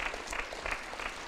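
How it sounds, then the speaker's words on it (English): Applause at a church senior graduation service, given for the youth staff; brief, fairly faint clapping from the congregation with a rhythmic, uneven texture. "can you give a round of applause for the youth staff and their wise words?"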